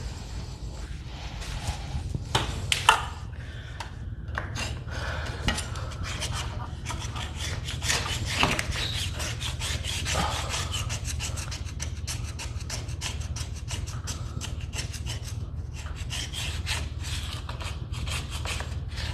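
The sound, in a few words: scraper removing stain from wooden staircase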